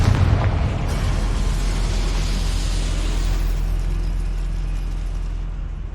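Fire spell explosion in Hogwarts Legacy, a loud booming blast that opens the clip and leaves a dense, rumbling roar for several seconds, with no voices.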